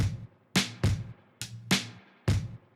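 Punchy drum hits played alone in a loose pattern, five strikes with sharp attacks, a low thump and bright crisp decay, close and loud.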